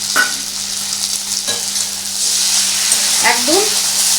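Hot frying oil is spooned over freshly fried spicy bhetki fish pakoda, producing a close, steady sizzle with a few light clinks and scrapes of a utensil and no talking.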